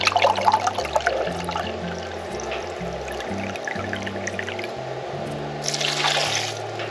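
A thin trickle of balsamic vinegar pouring into a stainless steel Dutch oven over onions, heard as soft liquid splashing and dribbling close by, fairly quiet, with no voices.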